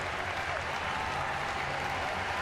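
The crowd at a Cubs at Red Sox baseball game at Fenway applauds a base hit, a steady, even wash of clapping and crowd noise that carries on with no break.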